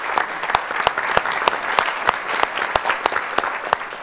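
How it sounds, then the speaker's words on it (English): Summit plenary audience applauding Cameron, a thick, even wash of many hands clapping close and loud with sharper individual claps poking through, sustained throughout without talk. "join me and applaud Cameron for his courage"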